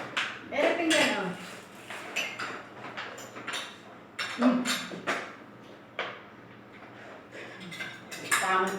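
Dishes and plates clink and clatter in a home kitchen during a meal of Bicol express and rice, with sharp intermittent knocks scattered across the clip under lively conversation.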